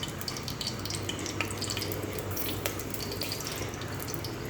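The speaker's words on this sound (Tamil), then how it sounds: "மசாலா பொருள்லாம் எண்ணெயில் பொரிய ஆரம்பிச்சிருச்சு." Whole spices crackle and sizzle in hot oil in a pan for a chicken curry, giving a soft, steady hiss with faint pops and no talk over it.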